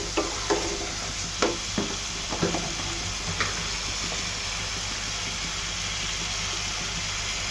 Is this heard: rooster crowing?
no